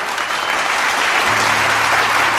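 A large crowd of about 7,000 people claps continuously in a loud, dense wash of applause filling the hall, with a faint low hum entering partway through.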